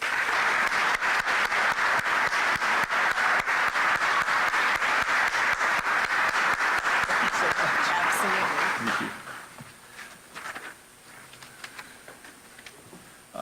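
Loud, dense audience applause welcomes a speaker at a Buffalo and Erie County Public Library event during a State of the County address, sustained for about nine seconds before dying away into a quiet room.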